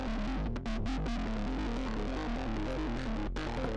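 A heavily distorted, gritty electronic drum pattern plays continuously, buzzing and saturated with a thick low end.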